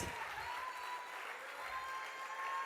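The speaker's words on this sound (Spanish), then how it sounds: "Can somebody applaud to Christ?" Quiet, distant applause from a church congregation during a sermon, a soft steady wash of clapping with a faint sustained tone running through it.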